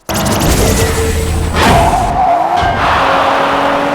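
Racing cars in the video game Blur skid and squeal their tires through corners over a loud, steady engine roar, with a sharp burst of sliding noise midway and continued engine whine afterward.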